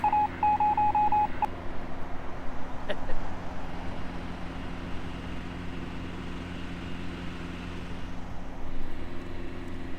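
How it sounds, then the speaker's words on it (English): A truck whirs near a car park off an Australian highway, a steady low mechanical drone running throughout, with a few brief beeping tones at the start. "You might hear the whirring of a truck."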